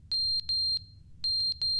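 An alarm clock in a video game rings in two clusters of short, bright, high-pitched electronic beeps, four then five quick pulses, over a low background hum.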